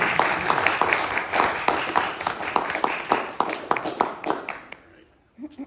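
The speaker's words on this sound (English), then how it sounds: "Let's welcome with a big round of applause, John, please." Audience applause welcoming a speaker at a Toastmasters-style meeting: a dense, steady patter of many hands clapping close by that tapers off near the end, with a voice starting just after.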